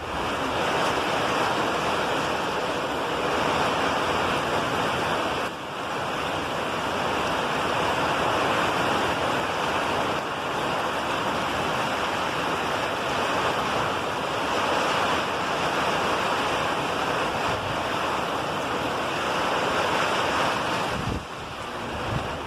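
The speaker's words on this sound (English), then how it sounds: "the wind is really gusting. The rain is just blowing." A storm's strong gusting wind and blowing rain roar steadily and loudly for over twenty seconds as a dense, rushing noise, with brief dips as the gusts shift.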